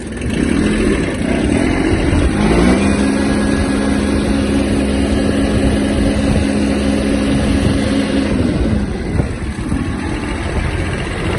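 A Kubota XB-1 mini tractor engine revs up and holds a high steady drone at maximum speed for several seconds, then drops back, loud and close with a rattling mechanical edge.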